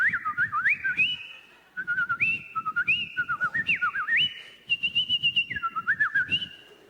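A comedian whistles an imitation of birds singing, a lively run of sliding, warbling chirps in quick bursts with short pauses, close and clear with no talking.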